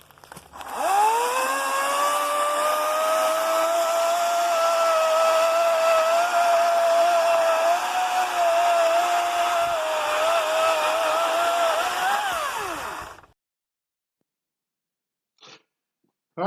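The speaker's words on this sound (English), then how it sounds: "let's use this saw here. Let's see how it does on a big rotten piece of wood" An EGO battery-powered 14-inch chainsaw runs steadily and loudly for about twelve seconds cutting a big piece of rotten wood, its pitch dipping slightly under load, then winds down and stops, leaving near silence with a brief clack.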